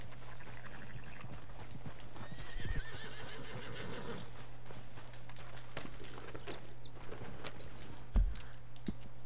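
Horse neighs and clip-clopping hooves in the video game Red Dead Redemption 2, whinnies rising over a steady low hum of game ambience, with a sharp thud near the end.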